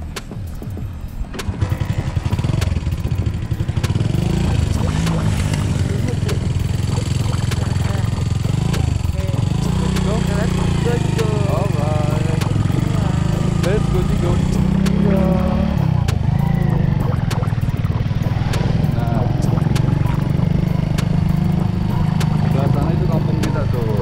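A Honda Win motorcycle engine runs steadily while riding toward Garut in rainy conditions, a close, continuous drone with rough clatter, and people talk over it throughout.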